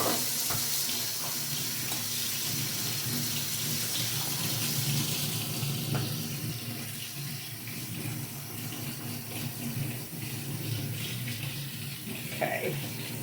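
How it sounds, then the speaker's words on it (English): Canned kidney beans rinsed under a running kitchen tap, a continuous broadband rush of water splashing into a sink and over the beans, steady and fairly loud throughout. "I'm going to empty the can and rinse those."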